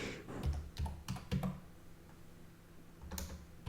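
Quiet, close computer keyboard typing in short irregular clusters of clicks, slow and halting as though pecked out with one hand, with no talk.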